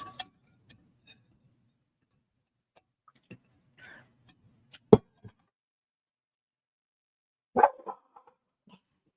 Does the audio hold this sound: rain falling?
no